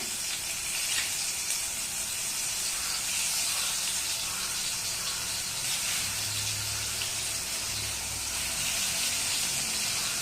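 Potato slices frying in a small amount of oil in a pan, a steady close hiss and sizzle running continuously with no talking over it.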